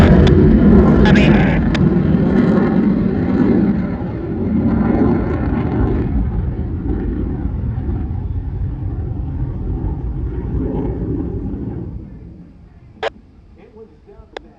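An F-16 Fighting Falcon jet, known as the Viper, flies at the 2025 Thunder Over Michigan air show. Its loud, broad roaring rumble carries steadily for about twelve seconds, then fades, leaving quieter background.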